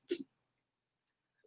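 A single sharp sneeze bursts out close by, brief and loud, then near-silence with a couple of tiny faint ticks.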